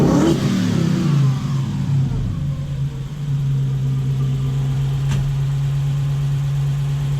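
A Toyota 1UZ V8 in a hotrod revs up sharply at the start, then settles into a steady, loud idle with a strong low hum. It runs close and alone, with no talk.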